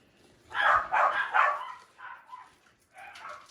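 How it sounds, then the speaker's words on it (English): Dogs bark indoors in a quick burst of several loud yaps, followed by a few quieter barks, somewhat distant and with no talk over them. "Don't mind our crazy dogs."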